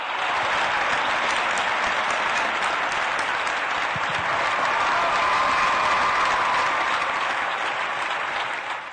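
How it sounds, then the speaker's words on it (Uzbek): An audience applauding a champion, a dense, sustained wash of clapping from a large crowd that stays loud and even throughout, with a faint murmur of voices beneath. "qahramonimizni yana bir marta olqishlasak."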